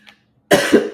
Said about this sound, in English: still got this stupid cough.